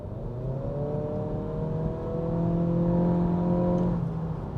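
A 2023 Acura Integra A-Spec accelerates hard under throttle, its engine note climbing steadily in pitch through the revs, heard from inside the cabin as a smooth, rising whine over road noise.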